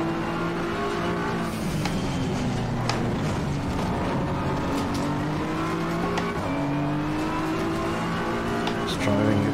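A race car engine in Assetto Corsa Competizione climbs through the revs and drops at each gear change, sweeping up and down several times in a loud, continuous run.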